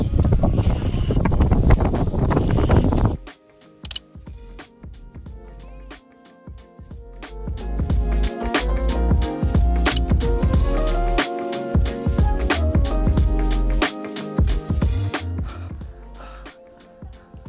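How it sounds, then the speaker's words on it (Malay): Strong wind gusts across a hilltop in China batter the microphone in a loud roaring rush for the first few seconds. Then come quieter stretches of bumping, handling and scattered knocks with intermittent gusts. "Angin kuat gila tu."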